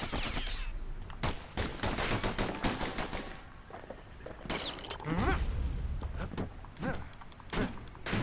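Enemies fire weapons in the Bastion video game, a run of sharp repeated shots with bursts and gaps, fairly close, mixed with other game effects and no talk.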